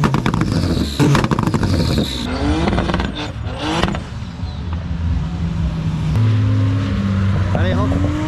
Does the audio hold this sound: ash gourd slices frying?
no